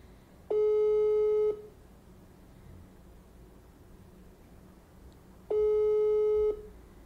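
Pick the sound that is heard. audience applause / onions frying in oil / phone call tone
phone call tone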